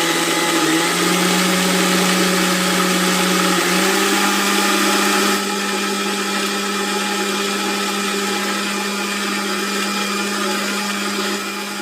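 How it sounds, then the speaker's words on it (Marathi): A steady electric motor whine of a mixer grinder churning cream with water to make butter, loud and close throughout, with a slight drop in tone partway through. "पाणी घातलं आणि मिक्सीवर ठेवलं मिक्सर चालू"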